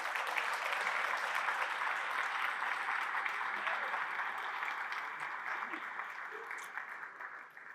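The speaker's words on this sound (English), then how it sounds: "Everyone, give yourself a round of applause." A large audience at a Fluttercon conference keynote claps steadily in broad, sustained applause that fills the room, holding strong before slowly thinning toward the end.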